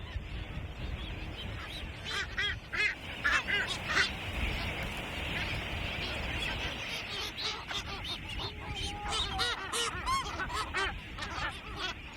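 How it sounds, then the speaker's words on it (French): A crowded seabird colony, gannets among them, on Saint-Brandon island in the Indian Ocean fills the air with a dense, continuous clamor of overlapping honking calls, steady and loud throughout with no voices. "Plusieurs espèces d'oiseaux fréquentent l'île. On ne les voit pas ailleurs à Saint-Brandon, comme les fous de Bassan."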